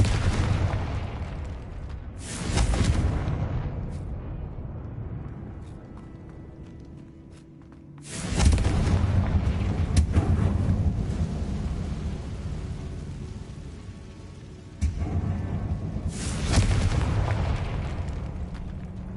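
Confringo blasting spell explosions in Hogwarts Legacy on PS5, four loud booming blasts with long rumbling decays, each fading before the next strikes.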